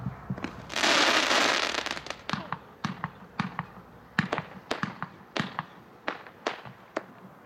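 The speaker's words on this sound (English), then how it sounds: "a late arrival in 2017 is Hot Stuff, a 42-shot, 500-gram, packed 4-over-1" A Hot Stuff 42-shot, 500-gram firework cake packed four-over-one fires a long run of sharp, separate bursts, with a dense crackling roar early on, then a steady rhythm of loud individual booms spaced about a third of a second apart.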